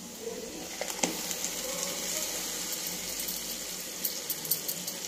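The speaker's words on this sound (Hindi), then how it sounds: "टमाटर को भून लेना है" Tomatoes frying with garam masala in a pan for methi matar malai, a soft continuous sizzle with scattered clinks and scrapes of a spoon, close and fairly quiet with no talk.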